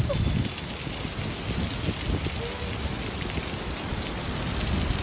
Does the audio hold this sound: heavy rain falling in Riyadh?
yes